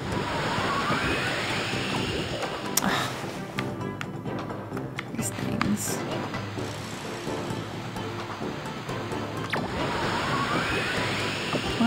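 Continuous rushing water and surging waves in the Okami HD video game, a broad steady wash that swells at the start and end with small splashes and clicks in between.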